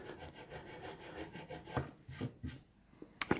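Fret erasers rubbed along the frets of a Rickenbacker 620/12 twelve-string guitar during fret polishing, quiet scratchy back-and-forth strokes in an irregular rhythm with a few sharper scrapes near the end.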